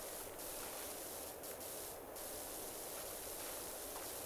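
A pressure washer in PowerWash Simulator blasting dirt off a gnome fountain, heard as a steady, dense hiss of spray that runs unbroken with small shifts in tone, without any voices.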